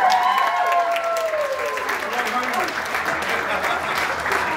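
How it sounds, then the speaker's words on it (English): A crowd applauds loudly and steadily, dense clapping filling the room throughout, with faint voices and cheers mixed in at the start. "Please give them a big round of applause."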